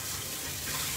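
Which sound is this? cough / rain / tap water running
tap water running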